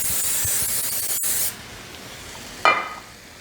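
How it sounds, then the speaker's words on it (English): Cooking spray hisses from a can into a round-cornered casserole dish in a steady burst of about a second and a half, followed moments later by a second short spritz, close and clear with no talk. "I'm going to lightly spray this casserole dish."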